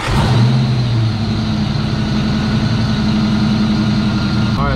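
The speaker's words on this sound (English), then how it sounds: "Restart the engine." A car engine with a fuel issue and a vacuum gauge attached runs at a steady, loud idle close by, with a brief rising tone near the start and a faint click at the end.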